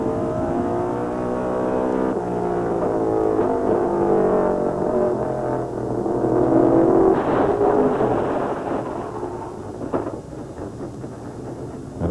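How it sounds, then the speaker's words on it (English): A NASCAR Featherlite Southwest Tour stock race car crashes at Tucson Speedway, a loud sustained grinding and scraping of metal with engine roar that swells and fades over about twelve seconds, with no voices. "violent sound. Grinding crash."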